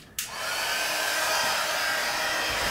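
Heat tool or dryer switches on with a click and then blows in a steady, close whooshing roar to dry craft work, holding constant to the end with no voices.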